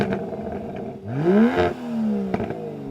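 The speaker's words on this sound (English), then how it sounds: "can we have a listen to the Aston Martin" Aston Martin DBS engine revving: a sharp rising rev that climbs and falls off, followed by a second shorter blip with exhaust crackle, loud and close, no voices.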